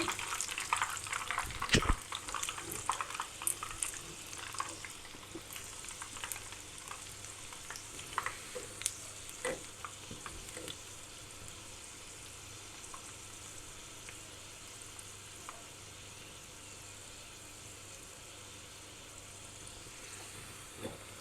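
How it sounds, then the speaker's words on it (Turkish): Börek fries in oil in a pan and gives off a soft, steady sizzle and hiss. Sharper crackles and pops come early, then the sound settles into a quieter, even bubbling. "Evet, evet ikincisi de kızarıyor."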